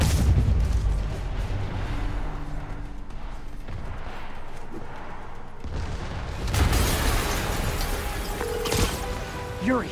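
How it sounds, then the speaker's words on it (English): Heavy booming blasts and rumbling debris from an explosion in Marvel's Spider-Man Remastered, loud and sustained, with a fresh surge of crashing noise partway through. "Yuri, an explosion just..."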